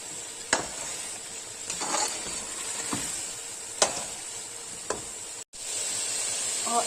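Biryani chicken masala fries in oil in a pan, a steady close sizzle broken by a few sharp stirring scrapes and clatters, with no voices.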